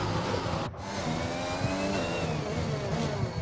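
F1 car engines in the video game F1 2021: a steady, high revving engine whine with shifting pitch as cars run down a straight, loud and continuous, with no talking.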